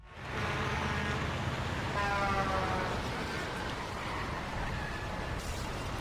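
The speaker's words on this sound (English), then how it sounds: "The sounds of the city are particularly well done. These civilians shouting in the background and trucks honking will forever be on loop in my brain." Video game city traffic from Hulk Ultimate Destruction on PS2: a steady, faint wash of road noise with a brief truck horn toot partway through and a low background hum throughout.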